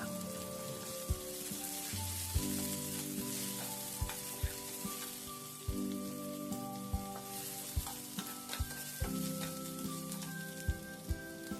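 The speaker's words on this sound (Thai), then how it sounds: "เราจะผัดจนหอมแขกเริ่มใสค่ะ" Shallots stir-fried with sweet peppers in a pan until turning translucent, a continuous crackling sizzle with regular spatula taps and scrapes, close by, while a steady tonal hum runs underneath.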